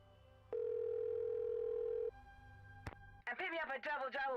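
A steady telephone dial tone hums from a handset in the Nancy Drew: White Wolf of Icicle Creek game, loud and unbroken for about a second and a half, followed by a click and then a person talking.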